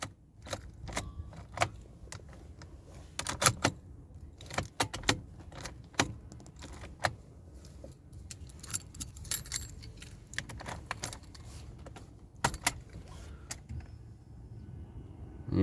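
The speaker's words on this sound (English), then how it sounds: "if I just put the key in, set the steering lock off" Car keys jangle and rattle in short bursts as a key is slid into the ignition of a car with a steering lock, close-up metallic clinks scattered across a quiet interior with no talking.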